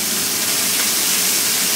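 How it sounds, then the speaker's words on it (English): Beef sautéing in a pan during Chinese home cooking: a loud, continuous sizzling hiss, even and steady throughout, close to the pan. "now we're gonna saute the beef"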